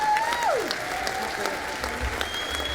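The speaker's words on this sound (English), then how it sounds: "give her another round of applause" An audience applauds after Congresswoman Sara Jacobs finishes her speech, continuous crowd clapping at steady loudness with a few tonal whistle-like sweeps rising above it.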